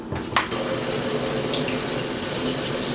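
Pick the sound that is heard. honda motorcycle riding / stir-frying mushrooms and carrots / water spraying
water spraying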